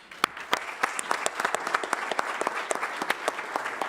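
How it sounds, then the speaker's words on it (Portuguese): An audience at a talk applauds to welcome the speaker Serafim, with many close, distinct hand claps that build into steady, lively clapping lasting the whole four seconds. "Calorosa salva de palmas para Serafim."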